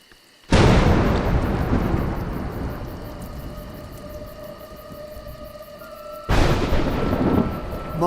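Thunderstorm in the video game A Juggler's Tale: a sudden loud thunderclap breaks into a long rolling rumble that slowly fades, then a second heavy crash hits near the end.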